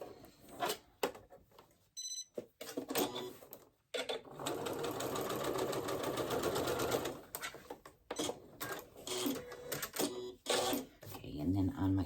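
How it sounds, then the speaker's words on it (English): A sewing machine runs in short stop-start bursts and one longer steady stretch of fast mechanical whirring while a hem is stitched, with a person talking in between. "I'm just going to sew up a little of my hem down here."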